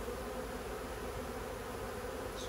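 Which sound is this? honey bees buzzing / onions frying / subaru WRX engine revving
honey bees buzzing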